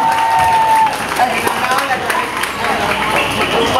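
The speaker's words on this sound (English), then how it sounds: "Let's give a round of applause to the team leader" A crowd claps steadily for a team leader at a military-style foundation day demonstration of small unit tactics, the applause running beneath an announcer's amplified voice.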